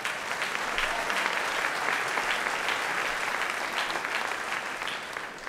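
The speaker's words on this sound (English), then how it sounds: "Give them a round of applause." An audience at an awards gala bursts into sustained, dense applause, many hands clapping steadily at close range throughout.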